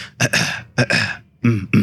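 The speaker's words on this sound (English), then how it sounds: "when let's say clear your throat" A person clears their throat in three short, rough bursts separated by brief pauses, close and fairly loud.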